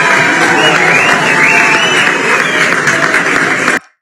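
A dense crowd applauds steadily at a political appointment ceremony in Rio Grande do Sul, with sustained clapping and some cheering that continues evenly before stopping abruptly near the end.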